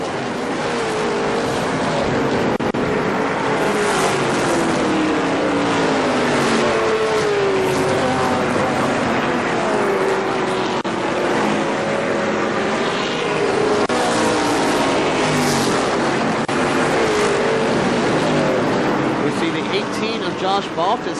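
Race cars lap Kil-Kare Speedway in an ARCA SuperCars event, engines droning steadily and loud for the whole stretch with passing cars swelling and fading, while an announcer talks continuously over the racing.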